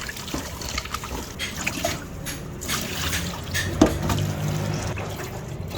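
Beef chunks are rinsed by hand in a basin of water for soup, with soft sloshing, trickling and dripping. The sounds are close and irregular, and there is no talk.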